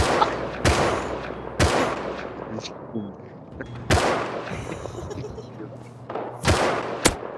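Gunshots in the survival video game Rust, several sharp broadband cracks spaced irregularly over a few seconds, loud and close, with players talking over the game's ambient noise.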